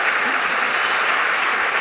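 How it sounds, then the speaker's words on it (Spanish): A conference audience at the iRedes 2015 event applauds at the close of an onstage dialogue, giving a steady, loud wash of clapping throughout. "Un aplauso."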